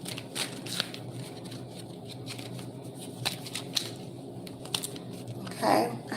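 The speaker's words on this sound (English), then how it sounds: "Still shuffling." Tarot cards being shuffled in soft, irregular riffles and slides, with light papery clicks repeating close by over a steady low background hum.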